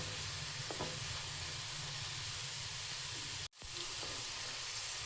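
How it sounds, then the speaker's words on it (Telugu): Amla (Indian gooseberry) pieces fry in oil with a steady, close sizzle and hiss that runs unbroken, except for a brief dropout near the end, with no speech over it. "ఉసిరికాయ ముక్కలు అవన్నీ ఇలా మంచిగా బాయిల్ అవ్వాలి."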